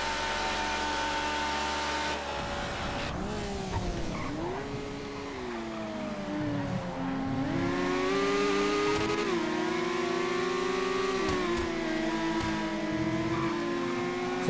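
A small race car in GTA FiveM revs hard, its engine note climbing and dropping through repeated gear shifts, with occasional tire squeal, loud and close with no talking.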